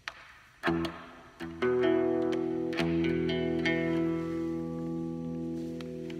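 A cigar box guitar plays plucked, twangy notes ringing out with heavy reverb, a few strums building into a washed, echoing sustain that slowly fades.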